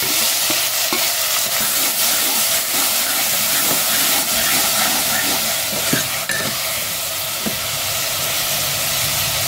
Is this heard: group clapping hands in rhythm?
no